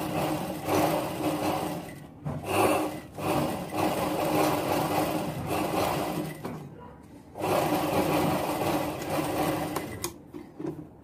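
Sewing machine stitching the side seams of a baby girl's kurti, running in steady bursts of rapid mechanical whirring with short pauses between runs, close and fairly loud.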